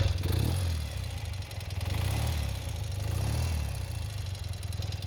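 A 1973 BMW R 75/5 motorcycle engine idles close by with a low, lumpy throb, its pitch swelling and easing slightly in slow waves, loud and steady with no talking.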